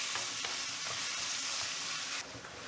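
Shallots sizzling in oil in a pan for a squid stir fry, a steady bright hiss with scraping stirring strokes at an irregular rhythm, close and moderately loud, with no voices.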